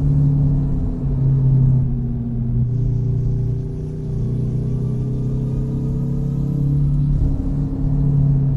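A Peterbilt 281/351 truck engine in American Truck Simulator holds a steady low rumble with a long, smooth rev that swells partway through and then settles. The sound is loud and continuous, with no talking over it.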